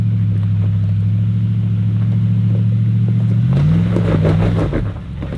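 A 4WD car engine idles low and steady as the vehicle creeps up a steep, difficult off-road track, the deep rumble briefly rising in pitch with a short rev before settling again, close and loud.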